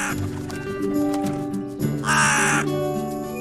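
A cartoon blue raven gives a single harsh, raspy caw, loud and close, over a steady musical background.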